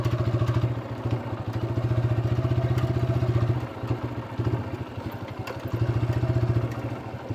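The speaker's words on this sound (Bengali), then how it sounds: "নদীর মধ্য থেকে আমরা বাইক ড্রাইভ করে যাচ্ছি" A motorbike pushes through a shallow river crossing at Shilaidah ghat in Kushtia, its mid-pitched engine droning steadily near the listener with rattling clatter, dipping briefly midway before surging again.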